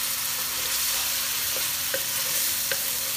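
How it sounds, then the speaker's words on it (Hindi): Ginger garlic paste sautéing in hot oil in a pan, a steady close sizzle with a few light taps of a stirring spoon against the pan. "इसके अंदर ऐड करेंगे 1 टेबलस्पून भर के जिंजर गार्लिक पेस्ट, लहसुन अदरक का पेस्ट और इसको करेंगे हम ऑयल में सौते।"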